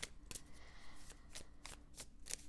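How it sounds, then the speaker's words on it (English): A tarot deck with nature imagery is shuffled up close and quietly, with a series of crisp riffling bursts at a quick, uneven rhythm. "The cards shuffle really nicely, I think."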